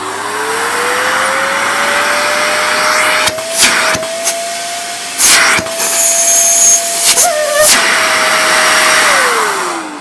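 A Hoover Dustmanager cylinder vacuum cleaner runs loud and close, its steady whine rising as the motor spins up, interrupted by several brief bumps and rattles from the nozzle, then winding down near the end.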